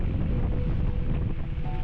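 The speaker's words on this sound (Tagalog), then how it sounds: "Sobrang lakas ng hangin sa ulan." Strong wind buffets the microphone in a continuous low roar, with a dense wash that could be rain mixed in.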